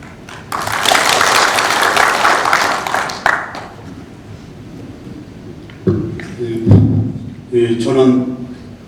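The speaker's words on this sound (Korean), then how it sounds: "낭독이 끝나면 큰 박수로 끝을 같이 알려주시기 바랍니다." Loud applause from an assembly in a culture and arts hall at a committee reorganization meeting, a dense burst lasting a few seconds, followed by a pause, thumping handling noises and a speaking voice.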